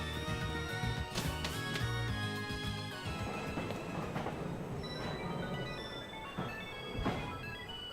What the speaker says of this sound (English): Those with armor passes, please board the train.